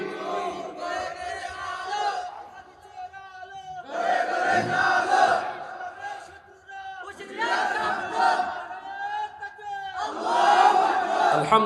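A large crowd at an Islamic religious sermon gathering responds to a takbir call with a loud, unified chant, repeated in four rhythmic surges separated by short pauses, voices massed and echoing.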